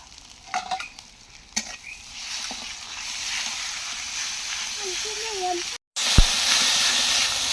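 Oil sizzling and crackling in a pan while something is stirred, a steady hiss rising after brief clatters, with a voice speaking intermittently.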